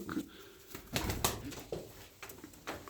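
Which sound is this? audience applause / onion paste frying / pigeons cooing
pigeons cooing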